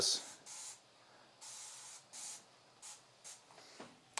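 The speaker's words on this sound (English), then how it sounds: "spraying oil helps get stuff that's like sticky on the counter" Oil spray pumped from a hand sprayer onto a kitchen counter while making pizza: several short, soft hissing bursts spaced about half a second to a second apart, fairly quiet and close, with a little background voice.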